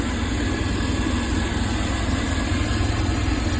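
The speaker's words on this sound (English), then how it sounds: "Now it's idling along." A 1995 Chevy G20 van with a 4.3 engine idles steadily close by, a dense, even rumble with constant vibration and no voices.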